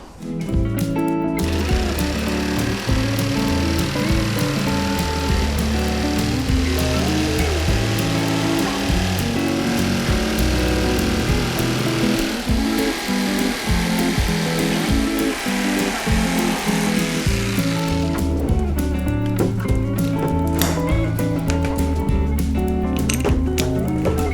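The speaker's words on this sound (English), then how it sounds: "I'm hoping I can just cut this with a jigsaw." Jigsaw cutting through material for a homemade chicken feeder, a loud, steady buzzing saw close by that runs almost continuously for about seventeen seconds before stopping, followed by clattering handling noises.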